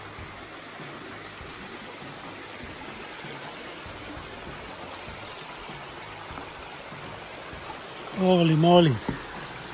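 Rock Creek on the Foothills Trail flows softly and continuously in the background, a quiet steady trickle, with a voice briefly exclaiming near the end.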